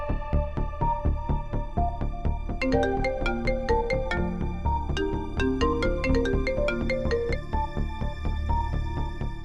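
A phone ringing with a bright melodic ringtone, steady and continuous with a repeating tune, loud and close with no talk over it.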